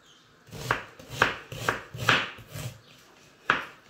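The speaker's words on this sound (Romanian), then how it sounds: "Și le tăiem așa mai mărunt, să fiarbă repede" Onion being finely chopped with a knife on a board for pork liver in onion sauce, with six crisp, evenly spaced cuts close up in a quiet kitchen and no talking.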